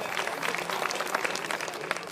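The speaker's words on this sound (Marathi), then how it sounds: "एकदा या कलाकारांसाठी जोरदार टाळ्या होऊन जाऊ देत" A crowd at a school annual-gathering play in Mandgaon applauds the child actors, with dense, continuous clapping from many hands, steady and fairly close throughout.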